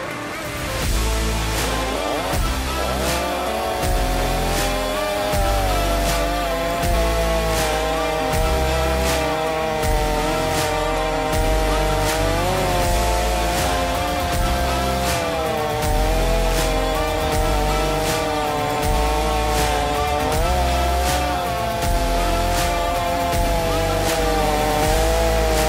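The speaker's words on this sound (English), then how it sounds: "We're going to pull up the saw, and we'll make some noise." Stihl 500i fuel-injected chainsaw cutting logs, its engine screaming at high revs in a loud, steady whine for the whole stretch, with slight pitch dips as the chain bites into the wood.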